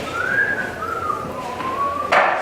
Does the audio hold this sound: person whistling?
yes